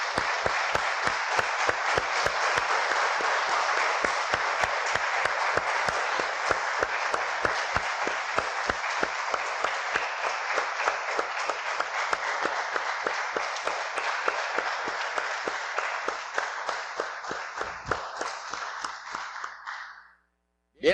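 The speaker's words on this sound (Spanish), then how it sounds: "Damos un aplauso, hermanos, al Señor" A church congregation applauds steadily for about twenty seconds, a dense, sustained clapping that fills the room before tapering off and stopping abruptly near the end.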